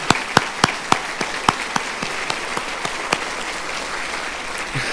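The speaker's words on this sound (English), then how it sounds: "Give them a round of applause, please." An audience at an awards event gives a round of applause. Individual sharp claps stand out at first, then the sound thins into scattered, fading clapping from a smaller crowd.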